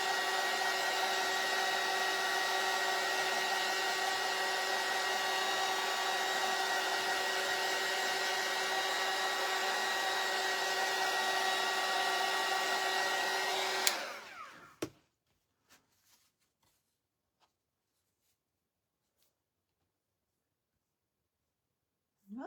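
A hair dryer blows steadily and loudly on a decoupage napkin craft for about fourteen seconds. It then cuts off and leaves near silence with a few faint clicks.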